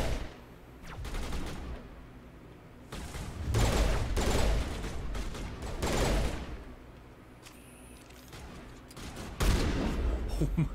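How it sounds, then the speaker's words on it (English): Shotgun fire and combat in the Mass Effect video game: loud, heavy blasts come in bursts with rattling gunfire between them, some rolling rumbles, and brief quieter gaps. "I like how sometimes the shotgun works and then sometimes it doesn't."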